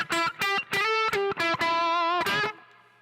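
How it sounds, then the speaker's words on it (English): Electric guitar chords through an amplifier with its reverb switched on ring out in short bursts, then a longer sustained chord that trails off into a reverberant tail, played alone. "Turn the reverb on here."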